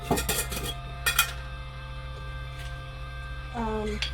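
Egg curry spices are stirred together in a metal pot, with a spoon clinking and scraping in short bursts over a low, constant hum.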